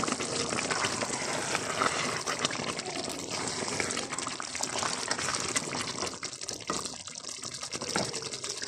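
Water pours steadily into a pot of pistachio sauce with okra, making a continuous close gushing splash for several seconds.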